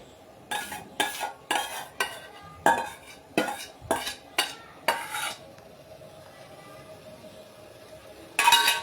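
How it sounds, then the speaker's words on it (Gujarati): A spoon scrapes and clinks against a pot as plain Vatidal khaman is transferred into a serving bowl: about ten sharp metallic strokes in an even rhythm, a quiet pause, then one last clatter, with no talking. "ચલો આપણે એને એક બાઉલમાં કાઢી લઈએ, સર્વિંગ બાઉલમાં."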